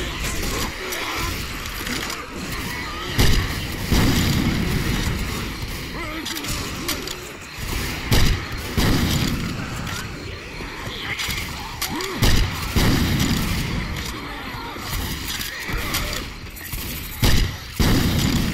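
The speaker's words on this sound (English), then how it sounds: "Pipe bomb out." In Left 4 Dead 2, a pipe bomb detonates amid a dense barrage of booms, heavy thuds and gunfire. Blasts keep coming throughout, loud and close.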